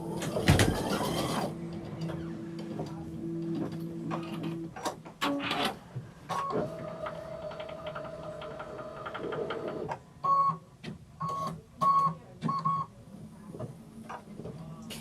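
An embroidery sewing machine hums and whirs steadily with tonal motor drones, then breaks into short rhythmic stitching bursts near the end, fairly close, with no one talking.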